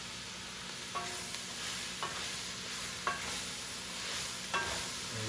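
Shrimp sizzle in hot oil in a cast iron pan, a soft steady frying hiss broken by about four sharp utensil clicks against the pan.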